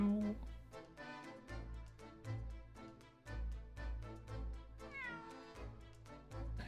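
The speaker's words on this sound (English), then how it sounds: "Oh, that was a cheeky little meow." A cat in the video game The Great Ace Attorney Chronicles gives a short meow over a continuous musical game soundtrack.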